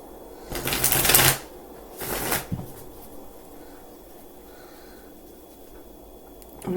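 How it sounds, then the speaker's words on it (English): A deck of cards being shuffled during a card reading, with two quick riffling bursts close up, then quiet room tone. "let's shuffle these up a little more"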